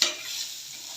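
Chopped garlic sizzling in melted butter in a pan while making white pasta, a steady close hiss with a brief stir at the start.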